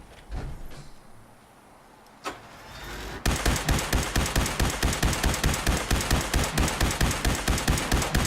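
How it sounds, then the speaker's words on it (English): Gatling laser in Fallout 4 spins up and fires a rapid, evenly pulsed stream of loud zapping shots, preceded by quieter game noises and a brief clunk. "Eat this, Gatling laser to the face."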